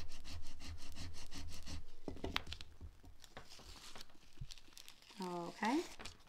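Transfer tape being rubbed down over vinyl on cardstock for a handmade handbag, a close scratchy rubbing and crinkling that runs in steady strokes, with a few brief tonal squeaks near the end.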